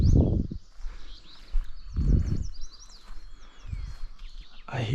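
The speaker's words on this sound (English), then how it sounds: "There's so many different birds around." Various wild birds sing in Nova Scotia woodland, with overlapping high chirps and whistled calls through the whole stretch, fairly near, broken by a few low thumps and rustles.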